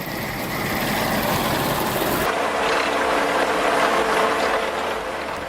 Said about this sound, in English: Immediately after, the apple harvester moves along the rows.